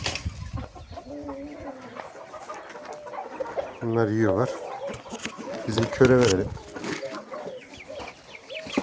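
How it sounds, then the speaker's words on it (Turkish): Roosters on a farm cluck and call in bursts, with two louder, harsher calls standing out, while people talk nearby throughout. "üçü de horoz onların"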